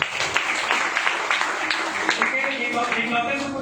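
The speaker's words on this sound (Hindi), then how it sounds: "उनके सम्मान में जोरदार तालियों के साथ" Audience applause at a company event honoring the platform's founder, a brief burst of dense clapping that holds steady with some murmured voices mixed in.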